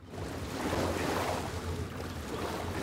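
Muffled underwater swimming in Star Wars Jedi: Fallen Order, a steady low watery rush with wind-like wash and a gentle surging swell, no voices present.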